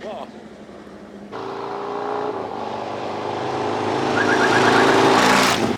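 A 2021 Harley-Davidson Road Glide fitted with a Feuling vented dipstick and breather revs on a test ride, the engine note climbing steadily louder and rougher as it pulls away.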